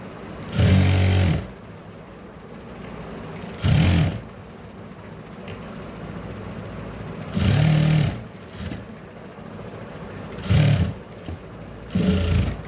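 A sewing machine stitching a blouse runs in five short, loud mechanical bursts of rapid whirring, separated by quiet pauses.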